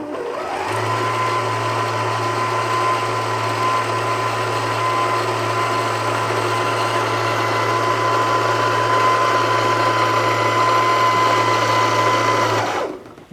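A Janome DC3050 sewing machine winds a bobbin with a steady, even motor whir that runs alone for about twelve seconds before stopping abruptly.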